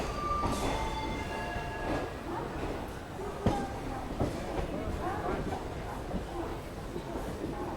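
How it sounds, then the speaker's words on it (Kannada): Wodeyar Superfast Express pulling out of platform 8 at KSR Bengaluru station, a steady broadband rumble of rolling rail cars with occasional faint wheel squeals and knocks, heard up close from on board, with murmured voices mixed in. "ಇದು ನಮ್ಮ ಟ್ರೈನ್ ಸದ್ಯಕ್ಕೆ ಹೇಳ್ದಂಗೆ ಹೊರಟ್ಬಿಟ್ಟಿದೆ KSR ಬೆಂಗಳೂರಿಂದ"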